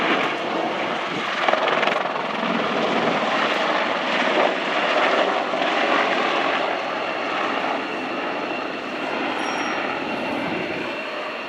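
Steady, loud rotor and engine roar of a Royal Netherlands Air Force Apache helicopter flying a display at the RIAT 2013 air show, a continuous broadband drone with no pauses.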